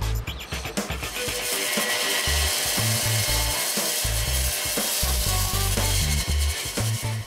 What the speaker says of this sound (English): The jigsaw is a good way of cutting curved shapes very accurately out of the solid ice.